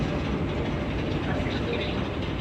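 Passenger train at a station platform, a long steady rumble of rolling rail cars with faint clatter throughout, fairly close and continuous, no distinct pauses.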